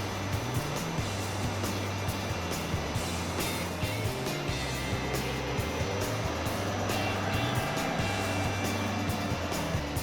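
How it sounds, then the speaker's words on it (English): A dyno input motor spins an Allison 3000 Series transmission, giving a steady low drone with shifting tonal hums and a mechanical whir. It runs continuous and moderately loud with no voices. "The input motor begins to spin, and I continue to fill to get the correct fluid level."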